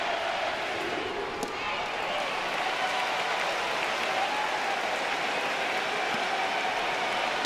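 Big crowd at a college baseball game, LSU against Oklahoma, bases loaded in the seventh, a sustained roar and applause washing steadily over the stands at moderate distance, with no single voice standing out.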